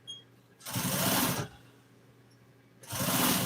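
A sewing machine runs in two short bursts, a steady close buzzing hum lasting under a second each, separated by a quiet pause.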